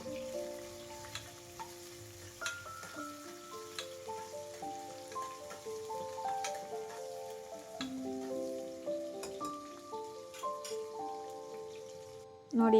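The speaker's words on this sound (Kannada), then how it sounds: "ಚೆನ್ನಾಗಿ ಗೋಲ್ಡನ್ ಬ್ರೌನ್ ಬರೋವರೆಗೂ ಫ್ರೈ ಮಾಡ್ಕೋಬೇಕು." Vegetable pulao ingredients fry in a pan toward golden brown, a low, steady sizzle running throughout with soft scrapes and clinks of stirring, and background music tones layered over it; a louder burst comes at the very end.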